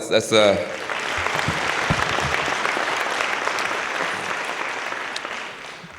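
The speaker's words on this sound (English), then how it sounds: "Give him a round of applause." Audience at a talk in Long Beach claps for a guest speaker, steady crowd applause following a brief amplified voice at the start, fading toward the end.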